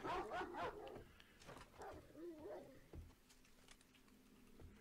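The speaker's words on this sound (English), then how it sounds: "Silly dog." Dog barks and whimpers from a wolf-like dog in the survival video game 7 Days to Die, several sharp close barks at the start followed by softer whines and yips fading over a faint background.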